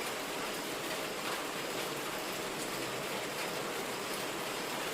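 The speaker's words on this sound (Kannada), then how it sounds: "ಈ ಮಳೆಯ ಹನಿಗಳ ಶಬ್ದದಲ್ಲಿ" Rain falls steadily on a road, a dense, even hiss of raindrops close around with no break or voices.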